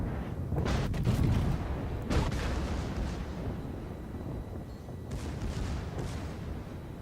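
Secondary guns on a Bismarck battleship fire in World of Warships, a run of heavy booming blasts with rumbling explosions, loud and close over continuous battle noise, no talk.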